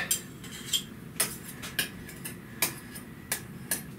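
Mayonnaise is worked into a tuna pasta salad with capers, with a utensil tapping and scraping the bowl in spaced, sharp clicks and knocks over a low background, no voices heard.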